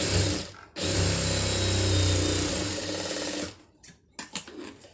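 An electric sewing machine stitching cloth pieces together hums in a steady, loud whir for about three and a half seconds, then stops, leaving a few short clicks and handling noises.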